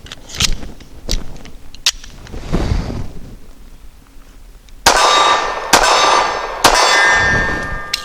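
A Walther CCP M2 pistol fires Remington Golden Saber 124 grain nickel-cased hollow points, several sharp loud shots spaced unevenly, each followed by a bright ringing decay.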